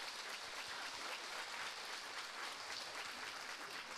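An audience at a dance show in a cultural centre applauds, a dense even wash of clapping that holds steady for a few seconds, moderately distant and without speech.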